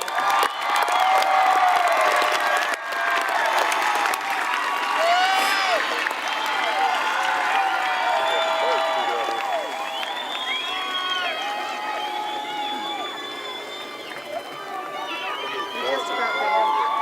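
Graduation audience cheering and applauding for graduates at a school ceremony, loud sustained clapping mixed with whoops, shouts and overlapping crowd voices, rising and easing across the stretch.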